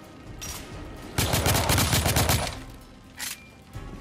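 Assault rifle fire in The Order: 1886, a sustained loud automatic burst in the middle flanked by shorter separate shots, close and sharp.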